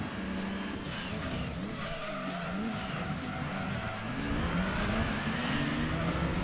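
A race car engine in Gran Turismo 2 roars steadily with tires squealing and skidding, continuous and loud throughout.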